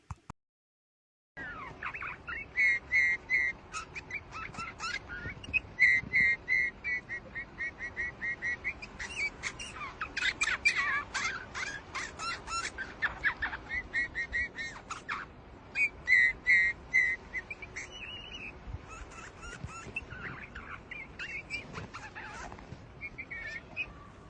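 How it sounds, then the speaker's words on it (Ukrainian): Soft, piping bullfinch whistles and short chirping notes repeat in irregular phrases against a quiet background, fairly close and clear, with no voices. "Давайте послухаємо чарівний спів Снігура."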